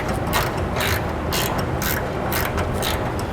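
Factory bolts on a helper spring plate are tightened with a ratchet, giving rapid, loud clicking bursts in an uneven rhythm close by.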